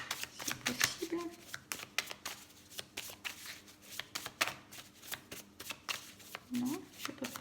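Tarot cards being shuffled for a reading, continuous soft riffling and flicking close up, with a voice talking quietly underneath at times.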